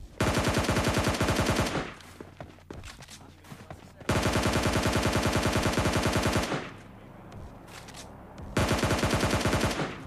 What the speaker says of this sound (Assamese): আৰু আন ছাইডৰ পৰা ফায়াৰিং হৈ আছিল